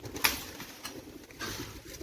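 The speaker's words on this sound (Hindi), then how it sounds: "ये देखिए कबूतर माशाल्लाह अपने" Pigeons cooing inside a goat and chicken pen on a rural farm in Saudi Arabia, soft low calls repeating in short bursts with a brief sharp flutter or clatter near the start, fairly quiet and close.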